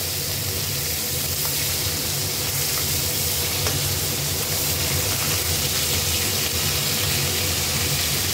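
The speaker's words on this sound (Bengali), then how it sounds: "একটু কড়া করে ভাজবো যেন কই মাছ।" Koi fish frying crisply in hot oil, a dense, continuous loud sizzle with a low steady hum beneath and no talk.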